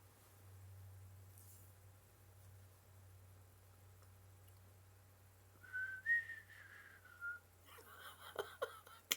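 A person whistles a short rising-and-falling tune, faint and brief after a stretch of quiet low hum, followed by soft rustling and breathing noises.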